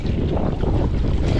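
A boat's engine runs at sea on a clear-water outing, a low rumbling drone mixed with wind buffeting the microphone, steady and close throughout.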